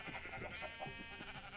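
Sheep bleating in the Minecraft video game, a few overlapping bleats close by over continuous game music, with no talking.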